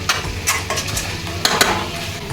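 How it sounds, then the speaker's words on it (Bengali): Green chicken being stirred in oil in a pan, with scraping strokes of a spoon and a soft sizzle underneath, heard close up with no talking. "এটা যতক্ষণ না তেল ছাড়ছে আবার তোমাদের নাড়িয়ে যেতে হবে"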